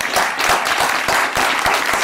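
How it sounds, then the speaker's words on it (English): An audience bursts into loud applause at the close of a conference session in Oslo, a dense wash of many hands clapping steadily throughout without voices. "Give yourselves applause."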